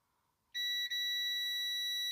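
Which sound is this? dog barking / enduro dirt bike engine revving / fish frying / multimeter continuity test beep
multimeter continuity test beep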